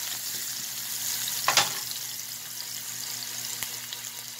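Garlic and onion dropping into hot oil in a pan, a brief burst of sizzling at the moment they land, then a soft, steady crackle of frying continuing close by.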